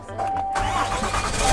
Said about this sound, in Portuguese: Liga o carro aí.